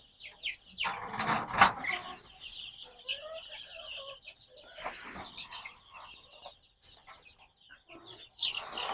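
Chickens cluck and squawk close by, with a brief burst of wing flapping near the start, then softer scattered clucks, as brooded chicks are let out after 17 days.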